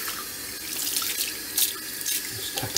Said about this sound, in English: Let's run the water again.